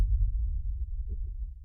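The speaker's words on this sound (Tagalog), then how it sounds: "mabilis masyado ang tibok ng puso mo" Low, muffled heartbeat sound effect thumping rapidly and continuously, with faint murmuring texture underneath.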